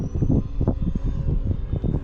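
A radio-controlled E-flite 64mm A-10 model jet takes off on its electric ducted fan, a steady, rough whooshing whine close by with a fluttering texture and no talk.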